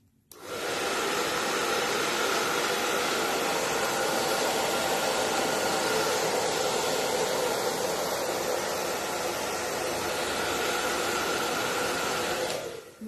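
A hair dryer drying paint on a reused wooden picture frame, a steady loud whooshing blow that switches on, runs evenly for about twelve seconds, then cuts off.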